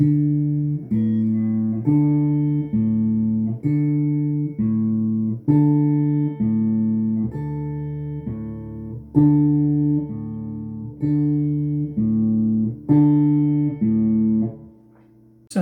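Fingerpicked guitar with a steady thumbed bass pattern beneath ringing upper strings, repeating chord shapes in a clear, even rhythm with no voices.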